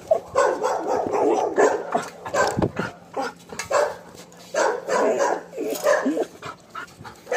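A dog barks and whimpers in repeated loud, close bursts with short pauses between calls.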